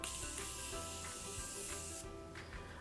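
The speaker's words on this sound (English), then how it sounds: "I'm going to go ahead and set our face with some setting spray." Morphe Continuous Setting Mist sprayed onto a face, a steady close hiss of fine mist running for about two seconds before cutting off, followed by a quieter short puff.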